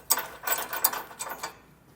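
A ratchet tightens base plate bolts and nuts on a 2018 Chevrolet Colorado, giving a few quick, close, clicking strokes in a short burst before falling quiet. No one talks.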